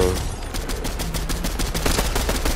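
Rapid gunfire in Fortnite rattles off in a dense stream of sharp shots, with automatic bursts running steadily through the whole stretch at moderate loudness and no talk over it.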